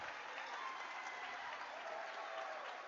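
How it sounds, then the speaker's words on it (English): A crowd of Red Mountain Mountain Lion fans at a high school varsity boys basketball game claps and cheers in a dense, steady roar, heard from a distance for about three seconds. "the Mountain Lion crowd is fired up with his play"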